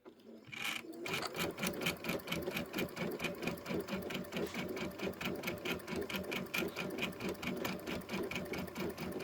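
A home sewing machine stitches steadily for several seconds, its needle strokes forming a fast, even rhythmic clatter that stays close and loud after a brief soft start, with no talking over it.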